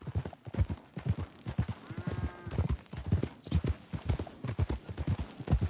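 Horse hooves clip-clop in a steady walking rhythm in Red Dead Redemption 2, close and clear, with a faint neigh-like tone partway through and no speech.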